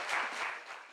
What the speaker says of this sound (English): And the rest of you guys are applauding.